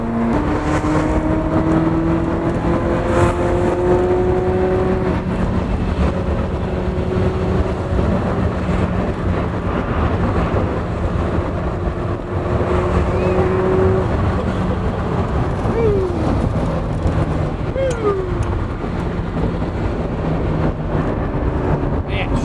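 Ferrari F40 engine running on a dyno, a loud sustained motor roar with rising and falling rev sweeps and a few whining pitch glides across about twenty seconds, with no clear talk.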